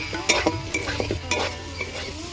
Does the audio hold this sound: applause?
no